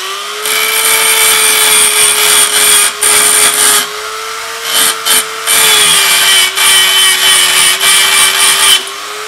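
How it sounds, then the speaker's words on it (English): A Dremel fitted with carbide bits trims metal on a Porsche 928 steering rack job, a loud, steady high-pitched whine that briefly dips and cuts out a few times as the bit catches and lifts off. "Then using my Dremel with some carbide sort of heads on it, I'm just trimming it off"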